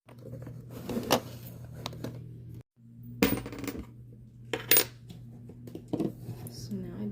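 A quarter coin handled on a table: metallic clinks and taps against a hard surface in several separate bursts, with a steady low hum underneath.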